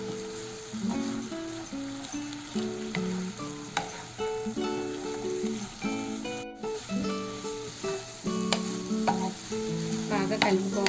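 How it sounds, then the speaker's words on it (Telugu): Fried chicken pieces stirred and tossed in a hot pan for chilli chicken, a steady loud sizzle running throughout with scraping stir strokes and occasional spatula clinks, close up and with no talking. "ఫ్రైడ్ చికెన్ బాగా మిక్స్ చేసుకోవాలి"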